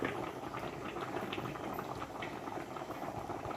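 Catfish pulimunchi curry with coconut oil added simmers steadily in a pan, giving a continuous close bubbling and crackling of boiling liquid with no voices over it.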